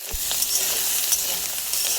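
Mushrooms fry in hot oil in a wok while being stirred, a dense continuous sizzle broken by repeated scraping and clattering of the spatula, close and loud with no voices.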